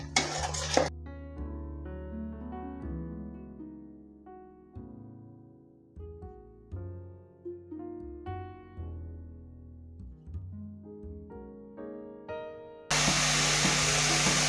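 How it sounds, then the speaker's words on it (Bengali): Tomato rohu fish curry masala stirred in a pan, with a scraping, sizzling stir that comes through loudly near the end after a long stretch of background music. "এবার আর একটু ভালো করে মিশিয়ে দেবো।"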